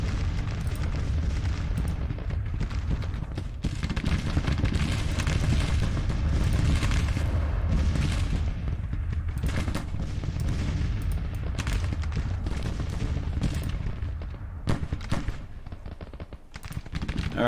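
Battle in Grand Tactician: The Civil War with 12-pounder Napoleon cannon artillery firing, a dense, continuous roar of booming blasts and overlapping musketry, loud and sustained throughout with only brief dips.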